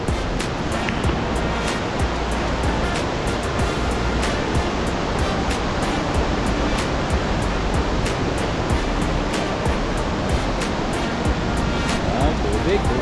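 Aliwagwag Falls in Davao Oriental roars with a dense, continuous rush of falling water, loud and steady throughout, with faint sharp ticks scattered over it.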